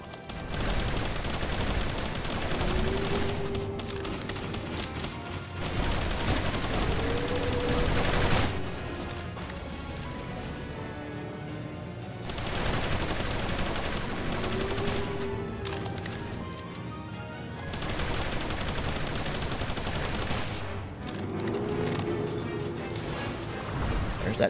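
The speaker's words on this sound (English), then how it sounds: "There's that charge rifle." Charge rifle gunfire in a video game, heard as repeated loud bursts of shots in clusters of several seconds with short gaps between, under steady game noise.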